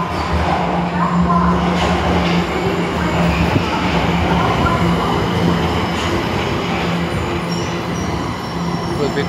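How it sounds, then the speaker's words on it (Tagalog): A local train pulls into a Tokyo station platform with a steady, loud rumble of wheels and carriages, faint squeals and clacks throughout, and a platform announcement voice partly audible beneath the noise. "The local train bound for Shibuya is arriving at track"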